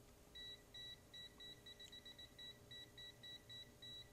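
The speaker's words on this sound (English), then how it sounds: "You get a beep and an LED and an indication on the screen." Kaiweets HT118E multimeter emitting a rapid series of short, identical high-pitched beeps in an uneven pulsing rhythm, close and clear over a quiet background hum.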